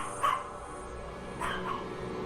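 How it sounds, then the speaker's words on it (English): A dog named Pongo gives two quick barks about a second apart, indoors and fairly quiet, in a staged reenactment, with no talking. "Pongo started barking, letting us know something was around."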